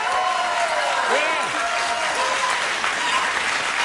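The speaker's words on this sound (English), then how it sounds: "Listen to that. Roaring applause." A talk show studio audience gives loud, sustained applause, steady and dense throughout, with a voice briefly audible over the clapping.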